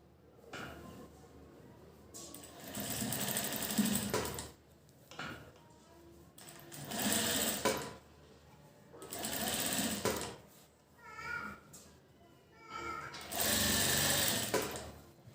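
Domestic sewing machine stitching a slanted seam on cloth at a blouse neckline, heard in four or five loud bursts of rapid mechanical whirring separated by short pauses, with no talk.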